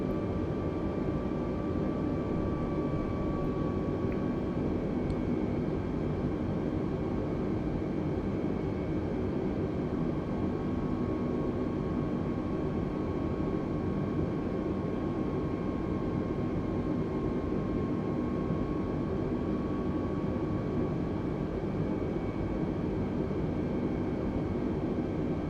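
A fixed-wing airplane in Microsoft Flight Simulator drones steadily at cruise, a loud continuous broadband engine and wind roar with faint tonal whines, unbroken throughout.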